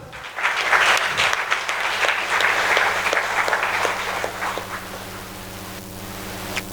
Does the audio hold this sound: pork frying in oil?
no